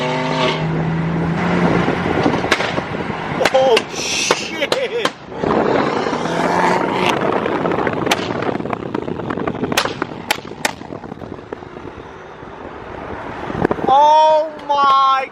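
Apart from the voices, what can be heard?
very loud modified BMW M3 exhaust roaring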